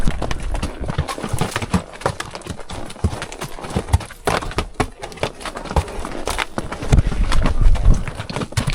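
Hooves of mules and a Mustang clip-clop steadily along a rugged desert trail, a close, busy rhythm of overlapping steps with occasional crunches underfoot.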